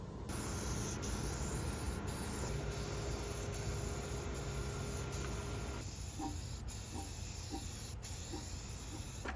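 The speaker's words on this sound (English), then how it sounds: "then we're going to spray a Raptor liner." A spray gun lays Raptor bed liner onto the bare metal body of a Ford Bronco, giving a steady, fairly faint hiss that runs without pause and shifts slightly partway through.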